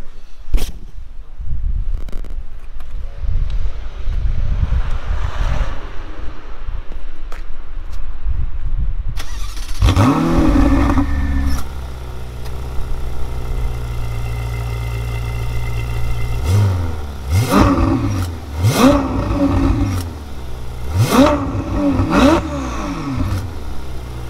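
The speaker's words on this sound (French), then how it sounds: "tu peux me démarrer le moteur et puis on va entendre le bruit" A new Ferrari 488 GTB engine cranks and catches, then idles with a deep rumble and is revved several times in sharp bursts. Earlier there is low background noise and faint talk.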